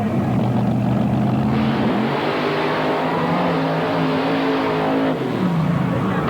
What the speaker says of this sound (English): Probably the highest RPM of any motor that has gone through the mud pit here today